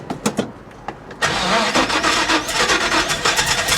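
A 1969 Chevy Chevelle SS V8 cranks with a few sharp clicks and rasps, then catches and settles into a loud, steady idle rumble close by.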